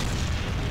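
A single deep, rumbling blast as an observation post is destroyed in Company of Heroes, loud and close, filling the whole brief moment with a low roar.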